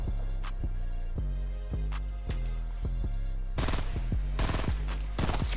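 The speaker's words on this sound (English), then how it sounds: "They shooting at you." Rapid gunfire in the battle royale game Fortnite: a steady run of evenly spaced shots, then a denser, louder burst of fast automatic fire near the end, with no talk.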